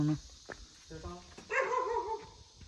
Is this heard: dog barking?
yes